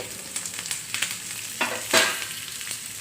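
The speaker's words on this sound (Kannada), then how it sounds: "ಇದೆಲ್ಲ ಸ್ವಲ್ಪ ಫ್ರೈ ಹಂಗೆ ಮಾಡ್ಕೊಂಬಿಡಿ" Cumin, dried red chilies and curry leaves crackle and sizzle in hot oil over a low flame while tomato rasam is being made, with a steady hiss and a few sharper spatters near the end.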